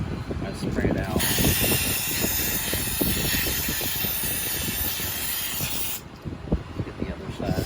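Cleaner sprayed from an aerosol can into the throttle body of a 2001 Saturn SC2, a loud continuous hiss lasting about five seconds, close up, with someone talking and handling noise around it.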